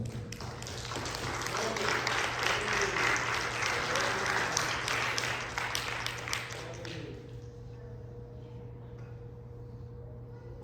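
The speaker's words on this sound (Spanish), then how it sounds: "Dele fuerte el aplauso al Rey." A church congregation breaks into loud, sustained applause that fades into quieter clapping, with a low steady musical hum underneath.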